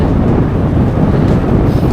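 Loud, steady wind buffets the microphone with a constant low roar and no break throughout, outdoors in Britain in windy, rainy weather.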